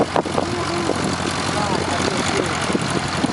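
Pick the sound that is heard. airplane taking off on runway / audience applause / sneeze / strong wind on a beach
airplane taking off on runway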